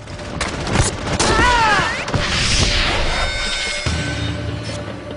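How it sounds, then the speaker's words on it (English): Bursts of gunfire crack out amid a chaotic, loud mix of booms, sirens and wailing tones during the 1972 Munich Olympics hostage shootout, with a rough shift in background partway through. "For 30 minutes, they exchange fire with the terrorists."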